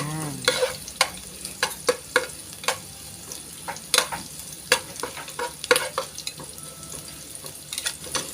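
Ginger and onion sauté for fish escabeche in hot oil, a steady sizzle broken by repeated sharp scraping and stirring strokes from a spatula against the pan, close and fairly loud.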